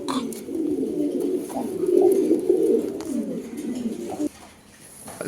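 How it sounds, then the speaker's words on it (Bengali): Long face pigeons coo nearby in soft, repeated rolling calls that swell and fade, with faint background chatter behind them. "চার পিস লং ফেস কবুতর যাদের পছন্দ হবে কালেকশন করবেন"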